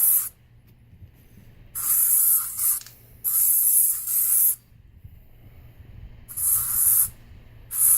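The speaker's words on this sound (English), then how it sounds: "Got the pressure washer out, as you can see." Bursts of pressure washer spray hiss on and off, four loud blasts separated by quieter pauses with a low motor hum underneath.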